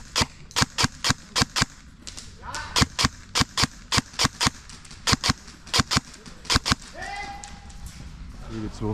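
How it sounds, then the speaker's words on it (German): Airsoft guns firing at an outdoor airsoft event, a rapid series of sharp, loud cracking shots at a fairly even rhythm, close by, with a few faint voices in the background. "Ah, die schießen hier hin."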